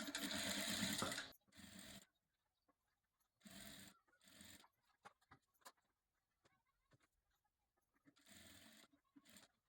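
A sewing machine stitches ready-made lace onto a round neckline edge in several short bursts of close, steady motor whirring, with quiet handling clicks in the pauses between them.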